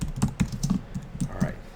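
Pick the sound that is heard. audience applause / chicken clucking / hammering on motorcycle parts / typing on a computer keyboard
typing on a computer keyboard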